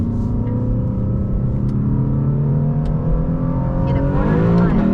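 A Lexus LC with a carbon intake cruises along the road, its steady low engine drone and road rumble filling the cabin, building slightly toward the end, with no one speaking.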